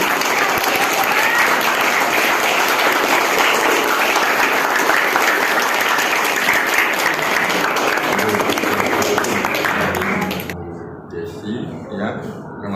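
A room of participants gives sustained, loud, dense applause that fades out near the end.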